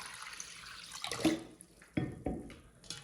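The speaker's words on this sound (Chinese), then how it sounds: "我们现在给它加入清水。 用清水给它淘洗干净" Water sloshes and splashes as marinated pig liver is rinsed by hand in clear water in a bowl, with a few close, distinct swishing bursts and a light watery background.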